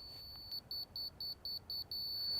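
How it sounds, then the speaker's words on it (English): Seven short, evenly spaced high-pitched electronic beeps from a grade laser receiver, repeating steadily over a quiet background. "If it's beeping kind of continuously, it means he needs to go up or down."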